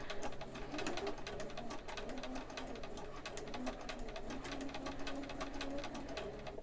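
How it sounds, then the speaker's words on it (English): A sewing machine stitches a dart in a fabric face mask, running steadily for several seconds with a fast, even needle patter and a low motor hum, fairly quiet and close. "I have to continue following this line when I'm sewing this dart"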